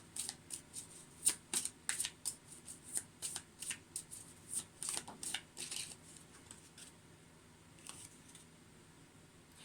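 Moonology oracle cards being shuffled by hand, a quick series of crisp riffling bursts in a fairly even rhythm that thins out toward the end, close and quiet with no talking.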